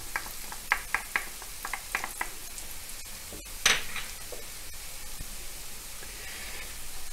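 Finely minced garlic sizzles in a frying pan, a steady soft hiss with scattered crackles and a few sharper spits near the start and midway, no voices.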